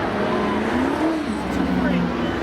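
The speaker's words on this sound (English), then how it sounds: "that Dodge Charger sounded a lot meaner when he came out onto the track." A Dodge Charger V8 rumbles on the track at Seekonk Speedway spectator drags, its engine note shifting and swelling at moderate distance while people talk over it.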